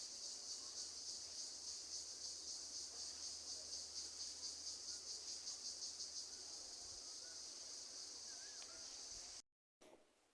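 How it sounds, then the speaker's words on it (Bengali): A steady, dense drone of crickets chirping continuously in rural Bangladesh, a high shrill pulsing buzz that fills the whole stretch with faint low background noise, no voices, briefly cutting out near the end. "দেখেন, শুনেন কীরকম ঝিঝি পোকা ঝিঝি ঝিঝি শব্দে মাথার থাকে না, এত শব্দ হয় সারাক্ষণ"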